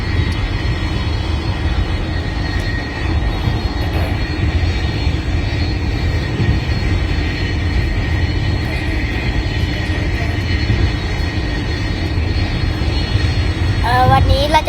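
Airplane engine running in a steady, loud, even drone that holds unchanged from start to end, with a brief higher-pitched sound near the close.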